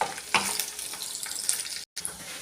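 Bombil fish frying in oil gives a steady hissing sizzle with a couple of brief clinks, cut by a short silent gap near the end.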